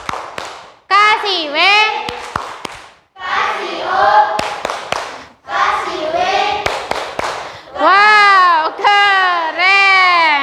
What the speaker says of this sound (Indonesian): Oke, kasih tepuk tangan untuk kelompok 3.